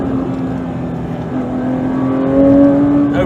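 A 2022 Porsche 911 GT3's flat-six, which revs to 9,000 RPM, winds up steadily with a rising, sustained tone that climbs louder toward the end, heard from inside the car with no talking.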